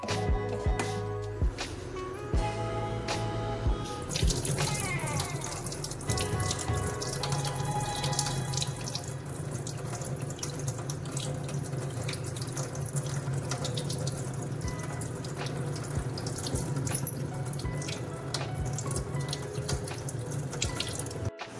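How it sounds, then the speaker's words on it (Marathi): A tap runs steadily into a sink as soaked wheat is swirled and rinsed, with continuous splashing and occasional clinks throughout. "आता हे पण पाण्याने वॉश करून घ्यायचे आहे."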